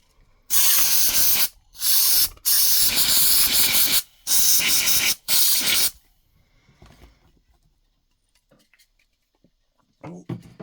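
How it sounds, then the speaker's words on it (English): Compressed air blasting into the fan unit of a 2017 NVIDIA Shield during a teardown, five loud hissing bursts of about a second each with brief gaps, followed by quiet handling sounds. "I'm going to blow the fan unit out with some compressed air as well"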